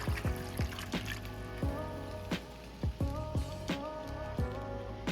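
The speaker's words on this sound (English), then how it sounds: "And pour it over everything in the crock pot." Seasoned water is poured over a pot roast in a crock pot, giving close, irregular splashes and drips rather than a continuous stream, with no talking.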